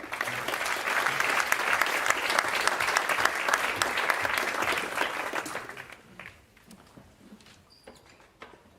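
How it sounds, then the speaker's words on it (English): Audience applause at an AI panel event in Switzerland as four panelists walk on stage: dense, loud clapping from a full room that holds steady for about six seconds, then thins out to scattered claps and quiet. "with the first big round of applause"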